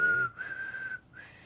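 A person whistling a steady high note, close and clear, held in three short phrases with brief breaks between them, with no talking.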